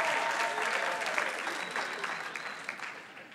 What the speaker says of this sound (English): Don't clap for incompetence.